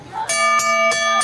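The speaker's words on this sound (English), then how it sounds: "Ring the bell." A wrestling ring bell clangs sharply at a professional match, striking four times in quick regular succession with ringing overtones, loud and close.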